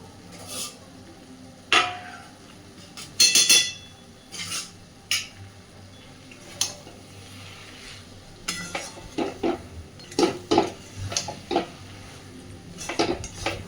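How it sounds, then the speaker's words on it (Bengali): A spoon scrapes and clanks against a metal pot while fish head and cabbage curry is stirred, irregular close knocks and scrapes over a faint sizzle, no voices. "সব কিছুকে এবার খুব ভালোভাবে আমি মিশিয়ে দেব।"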